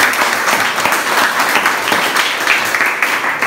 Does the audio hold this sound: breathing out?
no